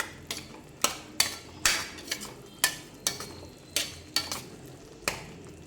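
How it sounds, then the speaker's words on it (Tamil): Chili powder sautés in oil while a spatula strikes and scrapes the pan about ten times in an uneven rhythm. The sharp, close clinks sit over a faint background sizzle. "மிளகாத்தூள் போட்டுட்டு அந்த எண்ணெயிலே அதையும் நல்லா வதக்கி விட்டுக்கலாம்."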